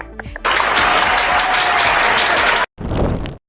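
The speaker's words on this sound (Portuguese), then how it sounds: "Vamos nos despedir dela com palmas." Group applause in a teen Sunday-school class saying goodbye to a guest, starting abruptly after a brief quiet moment, holding loud and dense, then cutting off before a short final burst.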